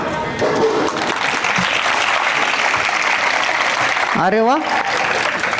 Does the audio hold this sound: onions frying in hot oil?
no